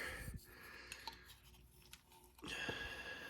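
A metal spoon is pulled from a Belarusian 24-hour ration pouch, giving a few soft clinks and rustles close by, with quiet handling noise and a louder scrape near the end.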